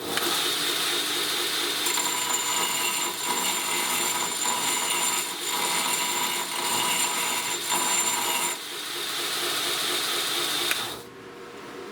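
A part for a forge burner is tapered, likely by filing, with a continuous loud rasping grind and slight rhythmic variation throughout, ending abruptly.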